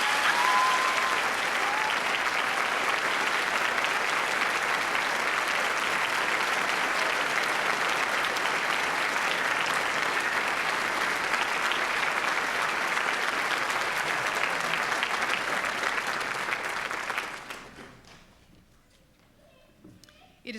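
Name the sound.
audience applause for graduating MA class at commencement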